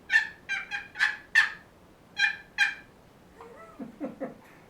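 A turkey call is worked in an odd, un-turkey-like way by a hunter signalling to other hunters: a run of short, bright, evenly spaced yelps, then a pause and a lower, rougher series of clucks, all close and clear with no talking.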